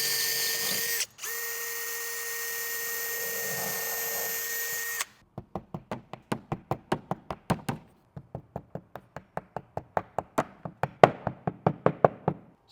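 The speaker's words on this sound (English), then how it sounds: "So I did drill 2 holes," A power drill bores holes for wall anchors in a slat wall panel. A steady whirring run is followed by a long series of short, sharp rhythmic bursts, close and fairly loud.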